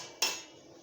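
A single sharp clatter of a pot or dishes being washed at a home sink, close and fairly loud, then a quiet fading ring with no talking.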